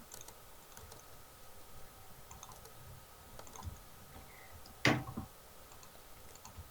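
A computer mouse clicks during a Minecraft game session: sparse, quiet ticks scattered over a low background hiss, with one louder burst of clicking near the end.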